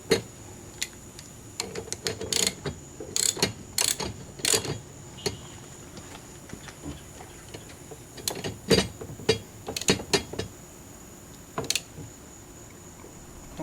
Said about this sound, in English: Socket and ratchet. Line it up on there.